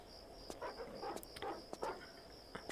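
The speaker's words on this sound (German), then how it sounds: "ich höre wieder ein Hundi" A dog in Tomb Raider Chronicles barks faintly and at a distance, a quick run of short barks against a quiet, hissing background with a thin high whine.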